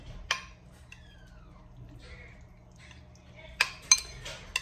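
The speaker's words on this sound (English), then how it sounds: "Anyway, let's mix this." Cheese-covered food being mixed in a bowl: a few sharp clinks of a utensil against dishware, one early and a quick cluster near the end, in a quiet room with faint voice-like sounds between.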